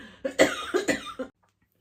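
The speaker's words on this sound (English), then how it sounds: "Sorry guys, major coughing fit then." A close, harsh burst of several rapid coughs in a row, ending abruptly into silence.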